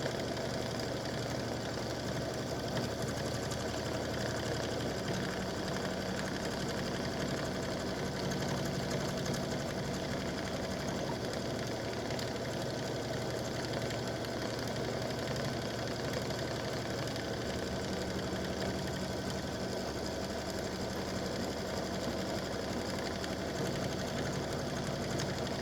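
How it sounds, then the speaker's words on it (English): An embroidery machine satin stitches an appliqué in a continuous, dense mechanical whir, its rapid needle strokes humming steadily and evenly at moderate volume without a break. "it's going to start doing the satin stitching"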